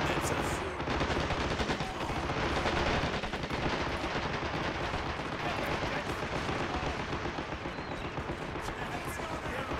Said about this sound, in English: Let's make use of these machine guns.